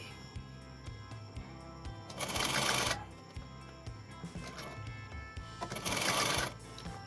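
A sewing machine stitches the double-folded hem of a tunic kurti in two short runs, with quiet clicks and fabric handling between them, fairly faint and close.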